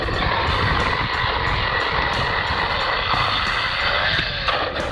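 An MJX Hyper Go brushless RC car pulls a long wheelie, its electric motor emitting a continuous loud high whine with gritty tire and surface noise underneath, steady throughout.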